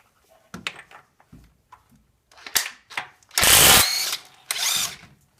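Ratchet working an engine bolt loose during an Oldsmobile cam replacement, giving short bursts of clicking and metallic turning, then two louder, longer runs near the end.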